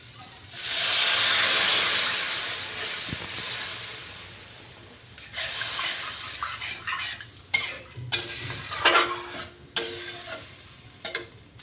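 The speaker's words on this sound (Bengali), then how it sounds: "খুব ভালো করে নেড়ে চেড়ে এটার মধ্যে আমি একটু জল দিয়ে দিচ্ছি" Water hits a hot pan of frying koi fish curry with mustard and cumin, bursting into a loud hiss of steam, then quieter sizzling broken by spoon scrapes and sharp clanks against the pan, no talking.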